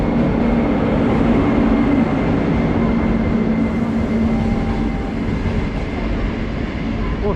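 An ordinary passenger train runs steadily along the rails with a continuous rumbling roar, heard up close from on board. It stays loud and even throughout with no voices.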